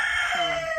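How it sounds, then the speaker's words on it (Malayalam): A rooster crows once, loud and close, a short, bright, drawn-out call heard alone with no talking. "കോഴി വരെ അത് എഗ്രി ചെയ്തിരിക്കുന്നു"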